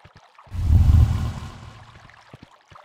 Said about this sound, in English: that's the sound of a nasty portal opening